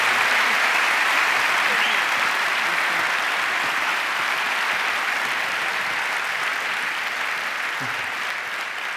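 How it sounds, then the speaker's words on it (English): Sustained audience applause for two panelists at a live talk on big data and security, a dense, steady wash of many hands clapping at full loudness throughout, fading only slightly near the end. "Please give our two panelists, Micheal Vonn and Peter Chow-White, a round of applause."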